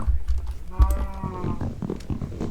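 A Minecraft cow gives one short, clear moo near the middle, set against soft computer keyboard clicks and light game noise.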